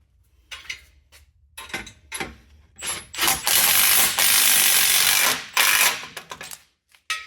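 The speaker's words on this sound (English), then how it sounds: "put a second bolt in one of these holes, just to keep it all lined up, and then we can tighten that one down" Ratchet tightening a bolt on an aluminum Jeep JL/JT front bumper, with short clicking strokes at first, then a long rapid ratcheting run and a few more quick bursts, close up with no voices.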